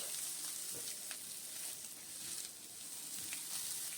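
Turmeric and Kashmiri chilli powder frying in a pan, a soft continuous sizzle with faint stirring, quiet and steady throughout.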